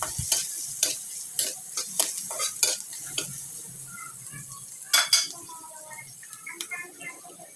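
Tofu sisig sautéed in a pan, with scrapes and taps of a utensil stirring near and fairly loud, then lighter clinks over a soft sizzle.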